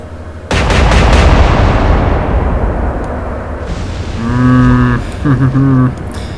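Naval guns in the Atlantic Fleet warship game fire one thunderous blast that fades into a long low rumble, followed by droning, horn-like tones.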